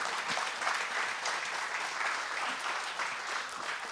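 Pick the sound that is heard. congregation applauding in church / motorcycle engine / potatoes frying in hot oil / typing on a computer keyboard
congregation applauding in church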